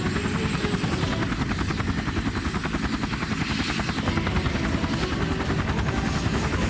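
Cartoon helicopter approaching to land in a jungle, a continuous close rotor chop with a low thudding pulse and a thin high whine, holding steady and loud throughout with no voices.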